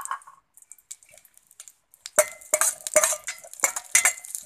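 A spoon stirs and scrapes cashews roasting in ghee in a pan, with sparse light clinks first and then a dense run of sharp metallic taps nearby.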